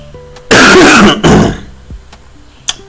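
A loud, close throat clearing followed by a short harsh cough, then quiet with a faint click.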